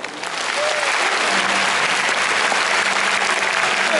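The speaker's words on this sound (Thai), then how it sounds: "ขอเสียงปรบมือให้ทุกคนหน่อยครับ" Loud, sustained applause from a large audience fills an indoor arena at a concert event, rising within the first half second and holding as a dense, steady wash of clapping.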